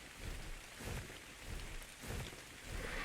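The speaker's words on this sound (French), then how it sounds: "Un peu de pluie." Rain falls steadily in the video game ARK: The Island, a soft continuous patter with gentle swells of rumbling weather, fairly quiet and with no speech over it.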